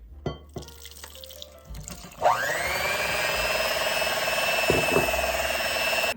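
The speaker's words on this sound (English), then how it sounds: "Actually, I think I'm just gonna go ahead and add my water in here." Water runs steadily into a bowl of box cake mix for a cake made with butter and eggs. It follows a few clicks and clatters and flows as a continuous, fairly loud stream to the end, with no voices.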